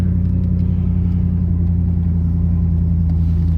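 Engine drone and road noise from a 1994 Aegean Blue Range Rover on the move, a steady, even low hum with no talking.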